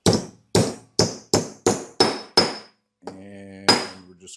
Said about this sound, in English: It's got me an old body hammer,